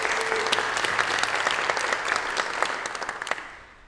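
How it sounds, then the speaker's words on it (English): Applause from a midday concert audience in a church hall: a warm spread of individual claps, steady at first, then thinning and fading toward the end. "Let's give her a big round of applause."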